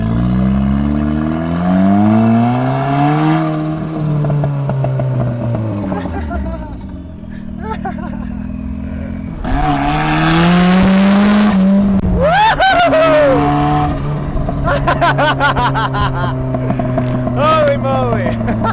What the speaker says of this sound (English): First drive in the turbo Offroadster.